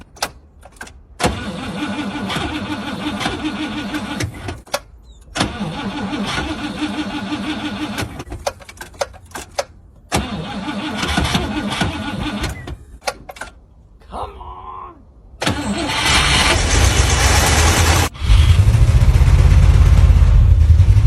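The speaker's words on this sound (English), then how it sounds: "we're gonna try and cold start the Cadillac" A Cadillac engine is cold-started at sub-zero temperature and 7,200 feet altitude: repeated bursts of starter cranking broken by brief pauses, then the engine catches and runs as a loud, steady roar close by.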